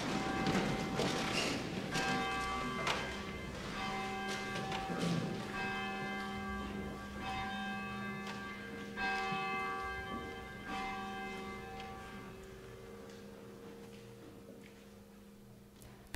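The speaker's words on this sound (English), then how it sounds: "the ringing of the bell" A church bell rings for the call to worship in a Sunday service, striking repeatedly with long, overlapping resonant tones that gradually fade, heard alone in a reverberant space.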